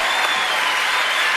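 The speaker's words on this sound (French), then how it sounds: "ça s'applaudit, merci" A television studio audience applauds, a dense, steady wash of clapping that stays loud and even throughout this short stretch.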